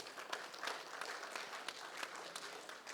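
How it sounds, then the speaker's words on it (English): Audience applause at the Nigerian Society of Engineers' October Lecture, a steady three-second patter of clapping hands from a seated hall, moderately loud and continuous without breaks. "Please give him another round of applause."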